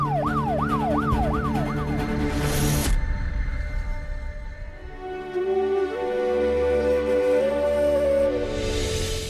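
A wailing ambulance siren rises and falls rapidly, then shifts to a slower, steadier tone amid traffic noise, loud and nearby.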